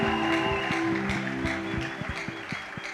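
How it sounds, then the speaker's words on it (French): Congregation at a wedding blessing applauding in church, a sustained wash of clapping under steady rhythmic music with a pulsing low beat. "Applaudissez le Seigneur Jésus"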